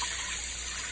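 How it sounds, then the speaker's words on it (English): Tap water gushes steadily from a faucet into a strainer of soaking mung beans, a constant, close, broad hiss of running water with no break and no talking. "So I'm just using a tap water here."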